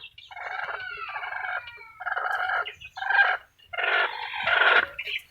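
A broody hen is lifted into a box for hatching in a room beside another hen, letting out repeated loud squawking, gobbling calls in close, uneven bursts with short pauses, no talking.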